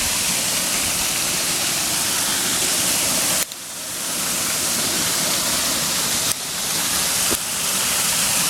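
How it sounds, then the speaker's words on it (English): Small waterfall at Beauchief Abbey in Sheffield, a steady broadband rush of falling water close by, continuous and even throughout with no voices, briefly cut at a few points. "there's a bit of a waterfall here as well"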